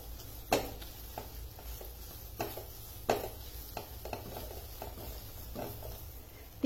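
A spoon stirs red chili powder into wheat flour roasting in a pan over low heat, giving repeated scraping strokes and soft knocks against the metal over a faint sizzle, close by with no voices.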